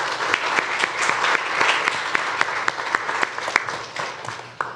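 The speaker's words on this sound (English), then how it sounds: "Let's give a round of applause once again to our first panel" Sustained applause from a conference audience after a panel session on big data for sustainable development, dense and steady with sharper individual claps standing out, no talk over it.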